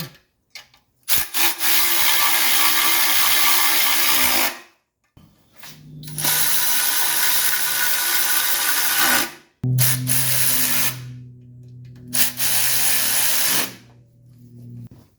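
Power drill or driver running in three sustained bursts, screwing a bracket back onto a 1983 Mercedes 300TD during engine-bay maintenance, with brief pauses between runs and a whirring motor tone that shifts pitch near the end.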